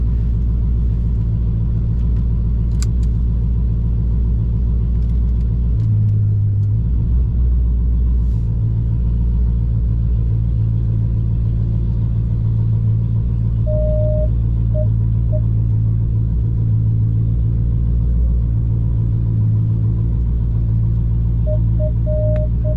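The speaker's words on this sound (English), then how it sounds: "Get my seatbelt on, back out of this driveway without hitting anything, and be on our way." A car backing out of a tight driveway, heard from inside as a steady low engine rumble and idle drone, with intermittent electronic beeps from a parking sensor in the second half.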